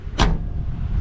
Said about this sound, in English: Let's hear this door close.